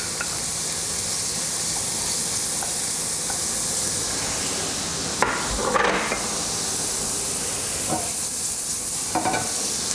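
A steak frying in a pan with a little fry light spray for a healthy chilli steak, giving a steady sizzle throughout with a brief louder crackle and stir about midway.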